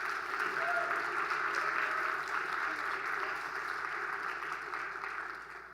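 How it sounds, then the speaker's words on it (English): Audience applause for sponsors at an address, a full, sustained round of clapping from a sizable crowd that stays steady throughout, with faint voices mixed underneath. "So let's give them a round of applause."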